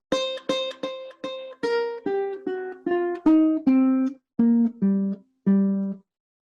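Blues guitar intro to a song, a descending blues-scale line of about a dozen clear plucked notes, evenly spaced and ringing, played alone and close.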